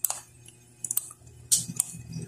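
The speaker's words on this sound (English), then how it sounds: "I'll be typing it for you." Typing on a computer keyboard, a few quick uneven clusters of crisp clicks and taps, close and fairly quiet, with short pauses between bursts.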